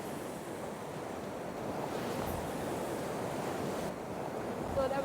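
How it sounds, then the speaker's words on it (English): Sea waves surging up around a coastal fishing platform, a continuous moderate rush of surf with gusty wind buffeting the microphone and a slight swell near the end. "There's waves coming up, but there's nothing going to wash us off."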